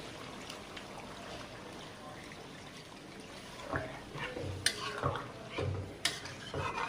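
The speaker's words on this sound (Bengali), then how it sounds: "গরমে ঝোলের পানি দিয়ে দেবো" Hot water is poured into a pan of spicy, oily chicken curry as a low, steady trickle and rush, followed by a few sharp clinks of a utensil against the pan.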